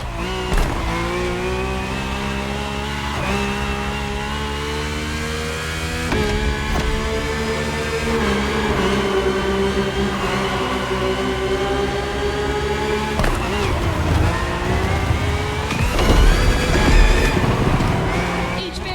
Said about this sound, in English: The rally car has already changed its course to reach the dirt.